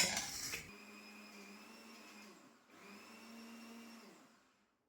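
Mixer grinder pureeing cooled spinach (palak) seasoned with chili powder, salt and coriander powder: a loud start, then a steady whirring motor that dips briefly, runs again and stops.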